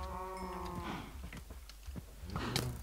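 Cows moo in the Minecraft video game, a long drawn-out low moo followed by another bovine call, heard steadily over a constant background of game sound.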